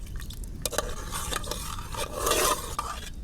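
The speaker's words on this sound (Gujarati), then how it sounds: "હવે આપણે આને બરાબર હલાવી લઈએ." Cooked dal being stirred in a pot over a village wood-fired clay stove, with soft scraping and squishing strokes of a ladle against the metal, a brief louder stretch of churning near the end.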